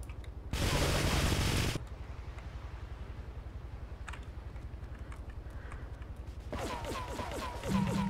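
Bursts of automatic gunfire from an enemy in GTA 3 The Definitive Edition: a dense rattling volley, a quieter stretch, then another rapid burst near the end.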